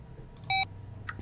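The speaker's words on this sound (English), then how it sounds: "I think I've used the same elevator sound ever since Blackwell Legacy" Elevator chime in the Blackwell adventure video game: a short, clear electronic beep-like tone rings once, followed by a softer click and a second brief blip, over a quiet low hum.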